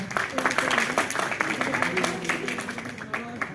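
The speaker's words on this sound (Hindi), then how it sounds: "जोरदार तालियां एक बार।" Clapping breaks out from a crowd at a Republic Day school program as a gift is handed on stage, uneven bursts of applause mixed with a murmur of voices and some raised calls.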